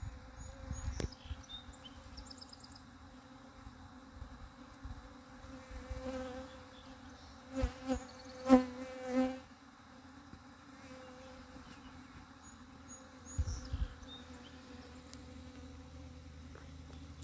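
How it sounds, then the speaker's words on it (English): Honey bees buzz in a steady, low drone nearby, with louder swells as some fly close past, no voices heard. "That's a lot of bees."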